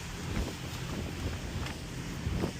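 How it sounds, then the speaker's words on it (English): Strong wind blows outdoors on an off-road outing in the San Bernardino National Forest, a constant broadband roar with low buffeting thumps against the microphone and no speech. "It's windy."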